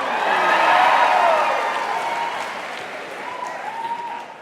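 A live-show audience bursts into loud applause with scattered cheers and whoops, swelling in the first second, easing off, then rising again near the end.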